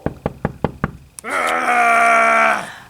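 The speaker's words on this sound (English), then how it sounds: "But then later there was another knock at the door." Five quick, sharp knocks on a door in a brisk even rhythm, loud and close, followed by a long sustained wailing tone that swells and fades.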